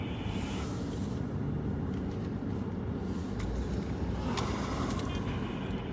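Steady road traffic outside a liquor store at night, a constant broadband rumble of cars with occasional louder passes, moderately distant.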